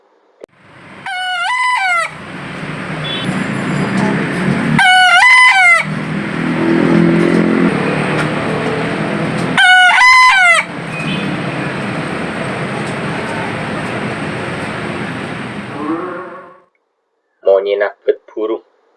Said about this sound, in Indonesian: monyenah ajem bekisar aco keker